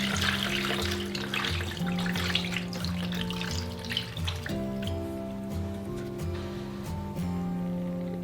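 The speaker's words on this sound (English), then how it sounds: "So now I'm pouring it over the eggs." Pickling lime mixed with water, 4 ounces per quart, is poured into jars of eggs, a steady liquid splash running throughout against a continuous background tone.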